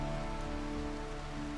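Steady rain pouring down in the colony-building game Rimworld, a constant even hiss of rainfall with faint tonal hum underneath and no voices.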